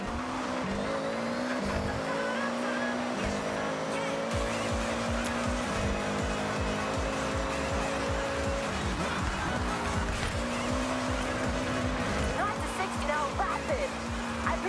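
A Viper sports car launches hard and accelerates in Forza Horizon 6, its engine rising steadily through the gears with a loud, continuous roar and a brief tire squeal, close and dominant throughout.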